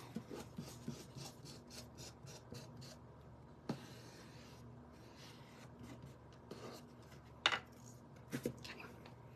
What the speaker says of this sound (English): I'm just gonna sand these edges